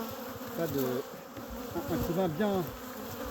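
Honeybees hum around a hive in Fontainebleau during an ivy nectar flow, a steady buzzing drone beneath someone speaking French close by.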